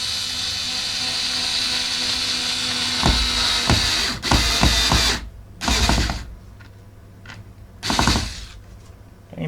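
Electric screwdriver driving screws into an N gauge model railway layout baseboard, several short whirring bursts of varying length separated by pauses, close and fairly loud, with no speech.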